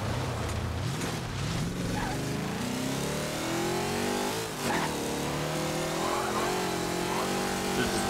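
Corvette engine in Forza Motorsport 7, tuned to 495 lb-ft of torque, roaring loud and steady throughout with a rising, shifting pitch as it accelerates.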